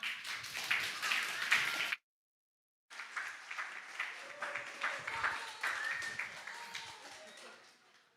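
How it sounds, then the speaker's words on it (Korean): A church congregation claps to welcome a young preacher to the pulpit, a moderate patter of applause that cuts out for a moment and then resumes, with some voices mixed in. "우리 전사님 나오실 때 큰 박수로 환영해 주시기 바랍니다."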